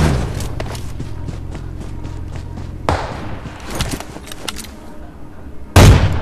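Gunfire from a match in the video game PUBG Mobile: a rapid string of close, punchy shots and thuds, with a gap of quieter scuffling and one loud burst near the end.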